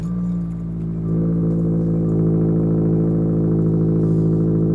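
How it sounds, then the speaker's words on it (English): A Subaru WRX engine cold-starts close by, settling into a loud, steady high idle with a deep, even drone throughout, no voices. "the cold starts in this car are very, very loud."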